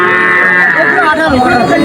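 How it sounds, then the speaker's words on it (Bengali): At a village cattle market, calves give a loud, close, drawn-out moo with a rising and falling tone that fills the whole moment. "আমার মনে হয় এইটা সবচেয়ে ভালো দুটো বাছুর আছে"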